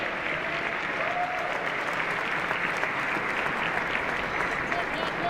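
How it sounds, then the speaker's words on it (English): A baseball stadium crowd at an LSU versus Oral Roberts college game applauds steadily, a dense wash of clapping and cheering that holds at an even level throughout. "the Alex Box Stadium Skip Bertman Field crowd applauds Martinez for being able to continue."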